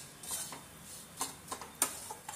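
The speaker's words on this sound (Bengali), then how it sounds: "সুজিটা ভেজে নেব।" Semolina frying in about half a cup of hot ghee in a kadai, stirred with a spoon that scrapes and clinks lightly against the pan in irregular taps over a soft background sizzle.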